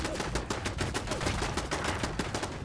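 Rapid bursts of turret gunfire in the video game Fallout 4, loud and continuous with dense repeated shots and no talking.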